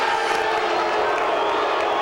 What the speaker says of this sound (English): You hear the boos from the crowd